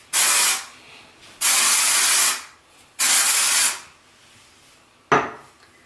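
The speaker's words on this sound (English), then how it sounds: "use a little dry shampoo. I like KMS Hair Play Makeover Spray." KMS Hair Play Makeover dry shampoo sprayed onto hair from an aerosol can: three loud, close hissing bursts of about a second each with short pauses between, then a final short spritz.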